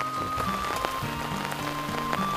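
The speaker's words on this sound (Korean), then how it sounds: "내리는 빗소리는 집중력을 흐트러지게 하지만" Rain falls on a fishing pond in a steady, even patter that lasts throughout, with a faint sustained tone running beneath it.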